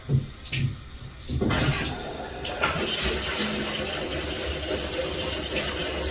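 Water sprays and leaks from a newly fitted shower head. After a few soft knocks, a loud, steady rushing hiss starts and continues close by without a break, with no voices.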